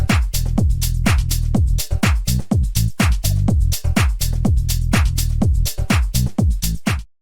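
Tech house bassline with rhythmic, gliding synth notes over a punchy drum beat, steady and loud throughout with pitch slides between notes.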